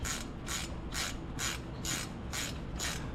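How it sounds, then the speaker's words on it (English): A torque wrench tightening the front brake caliper bolts on a 2017 Ford Fusion, giving seven evenly spaced, loud ratcheting bursts at a steady rhythm, close by with no talking. "then we'll get the torque wrench out, torque them down"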